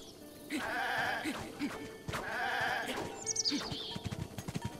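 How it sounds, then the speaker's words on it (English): A goat in Zelda: Breath of the Wild bleats repeatedly in wavering, nasal cries, several calls in a row at moderate volume with a few soft game sounds between them. "Look, it's a goat!"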